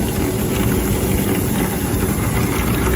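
A flexible 9-metre auger grain conveyor loads dry soybeans, driven by a 2.2 kW, 380-volt motor through an aluminium gearbox. It makes a loud, steady, close mechanical drone with a constant rushing churn throughout.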